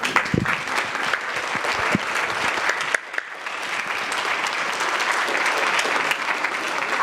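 An audience applauds children at the close of a talk session on screens, sustained clapping from a room full of people with a brief dip partway through.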